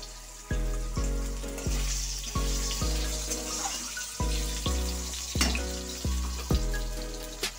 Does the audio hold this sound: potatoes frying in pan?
yes